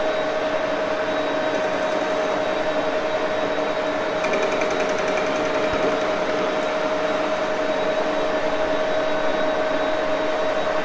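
An Axelson lathe with a Buck six-jaw chuck trims a thin aluminum tube, producing a steady, close whine with a constant tonal hum and light grinding texture throughout, and no talking.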